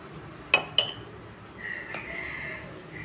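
A metal utensil clinks twice against a pan while ingredients are stirred together with salt for a Malaysian fried sardine sambal, followed by a soft sizzle.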